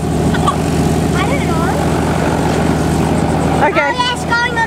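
A helicopter in flight hums as a low, steady droning engine beneath near, constant conversation between a child and an adult.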